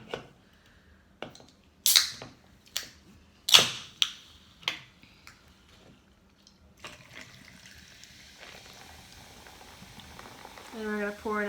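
A sharp can-tab crack and pops, then fizzy pouring and crackling carbonation over ice, close and fairly quiet.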